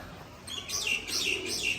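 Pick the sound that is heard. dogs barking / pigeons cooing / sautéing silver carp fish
pigeons cooing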